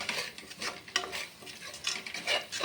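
Ginger, green chili, tomato, onion, cinnamon and clove cooking in oil, with soft uneven sizzling broken by spoon-stirring scrapes and pushes against the pan, close up and fairly quiet, no voices.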